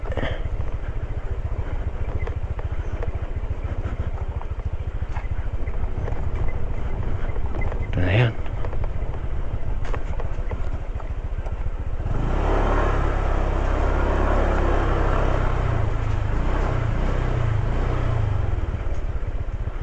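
Motorcycle ride along a slippery road toward the Kabuaan rice terraces in Nueva Vizcaya, a steady engine drone under heavy wind buffeting on the microphone, growing rougher and louder partway through, with someone speaking now and then.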